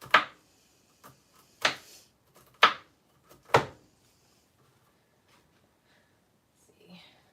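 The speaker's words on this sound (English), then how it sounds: "You have to keep chopping and chopping and chopping." Knife chopping cauliflower on a board in a home kitchen: a handful of sharp, separate chops spaced about a second apart, fairly close, with quiet gaps and a faint voice near the end.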